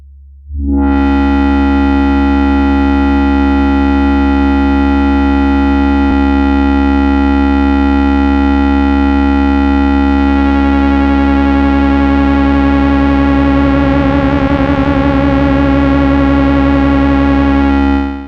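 A loud, steady buzzy pulse-wave tone from a Cherry Audio Quadra synthesizer plugin holds one pitch, then starts shimmering and phasing as pulse width modulation sweeps, with no talking.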